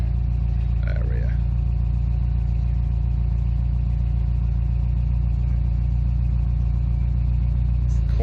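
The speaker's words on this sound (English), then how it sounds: "I wonder if we can hear the exhaust that sets off into the dyno area." A car exhaust drones in the dyno area at a dyno day, a steady, loud, low engine rumble that runs continuously with little change in pitch.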